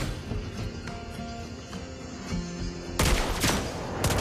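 Lesley, a sniper hero in the mobile game Mobile Legends, fires her gun: scattered sharp shots over game ambience, then a loud burst of rapid overlapping gunfire near the end.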